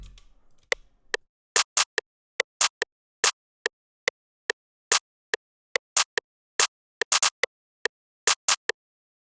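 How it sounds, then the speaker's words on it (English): A simple electronic clap pattern from an FL Studio beat plays alone. Sharp, dry hits come in an uneven, syncopated rhythm, with some quick doubled claps, over silence between them. "I just included this simple clap pattern,"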